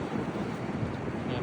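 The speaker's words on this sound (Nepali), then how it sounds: "स्टेसनको हावा धेरै चलिरहेको छ है" Strong wind blows across an open railway station platform, giving a steady, loud buffeting roar into the microphone throughout the short moment.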